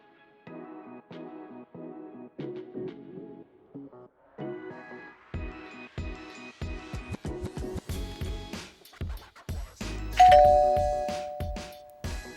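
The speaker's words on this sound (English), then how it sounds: "When you hear that ding, know that it's either time to rest or time to work." A workout interval timer sounds a clear electronic ding near the end of a stretch of upbeat background music during a chair-based full-body exercise session, with no talking.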